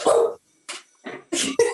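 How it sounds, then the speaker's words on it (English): A pet dog barks in the background of a home where someone is on a call, giving a few separate, fairly loud bursts of barking with pauses between them. "my dog is banging in the background"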